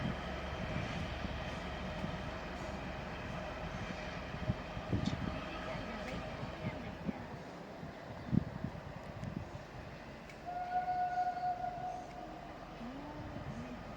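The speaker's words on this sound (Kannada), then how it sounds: "ನೋಡಿ, ದಾಂಡೇಲಿಯ ರೈಲ್ವೆ ಸ್ಟೇಷನನ್ನು ದಾಟುತ್ತಿದೆ ಡೆಮೋ ರೈಲು." A DEMU passenger train rolls out past Dandeli railway station with steady wheel and engine rumble, a horn sounding late on, heard from nearby on the platform.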